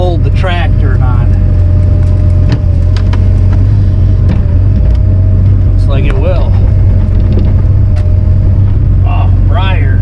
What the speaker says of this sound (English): see if the bush hog will hold the tractor or not.